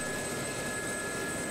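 SA342 Gazelle helicopter turbine in the DCS flight simulator, heard as a loud, steady, unbroken roar with a high whine running through it, with no talk.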